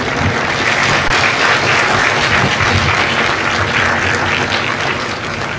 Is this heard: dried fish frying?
no